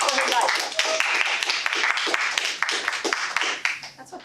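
Meeting-room applause at a Toastmasters gathering, a steady patter of many hands clapping that tapers off near the end, with a voice speaking over it.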